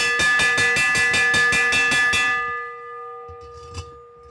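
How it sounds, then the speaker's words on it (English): A track bell at a Saturday night short-track race rings in a fast, steady run of about ten loud clangs, then stops and lets its tone ring out and fade, with faint crowd noise after. "They're going to be hearing a bell shortly."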